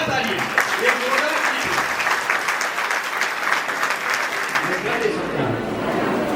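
A crowd applauds vigorously and continuously at the inauguration of a Brahma Kumaris Sadbhavna Bhavan centre, with dense clapping throughout and voices mixed in.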